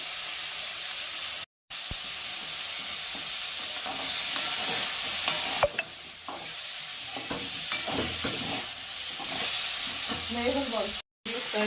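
Whole garam masala spices sizzle and crackle in hot oil, with steady hissing and occasional scraping of a spoon stirring the pan, close up.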